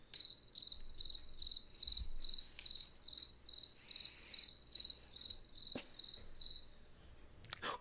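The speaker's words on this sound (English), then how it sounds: "It was a radio silent, honey. Crickets." Crickets chirp in regular pulsing bursts, a high trilling repeated about every half second, clear and steady against a quiet night background, briefly interrupted near the end.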